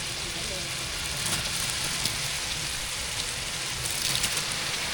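Onions and tomatoes sizzle steadily in oil for mutton biryani, a dense, even hiss that stays loud and constant throughout without pause.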